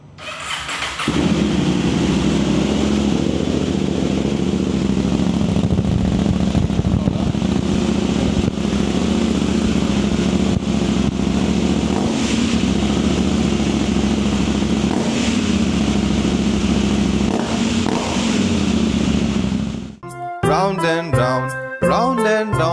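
KTM Duke 790 motorcycle fitted with an Akrapovic exhaust, starting up and revving hard for about twenty seconds with a loud continuous throaty roar and throttle blips, close by, then cut off as music begins.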